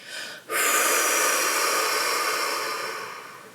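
A long, deep breath released through the mouth in a relaxation exercise, a steady airy whoosh that starts abruptly after a brief pause and slowly fades over about three seconds, close and alone.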